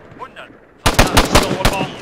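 Soldiers fire weapons in the combat video game Arma 3: after a quiet moment with a faint voice, a loud, close burst of rapid gunshots rattles out in quick succession.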